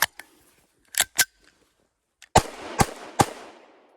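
Özkursan 9mm P.A.K. blank cartridges fired from a Blow TR-1402 pistol: three sharp, loud cracks about half a second apart, each trailing off in a short echo, preceded by a few quieter clicks and handling noises.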